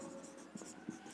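Marker or chalk scratching across a board during a chemistry lesson, a short quiet burst of strokes with two light taps, no talk.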